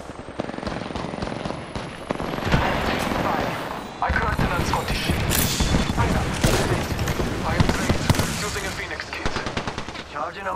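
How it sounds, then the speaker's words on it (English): Rapid bursts of automatic gunfire from the video game Apex Legends crackle loudly and almost continuously, dense overlapping shots with brief gaps, while a player's voice talks underneath. "He's shooting at me!"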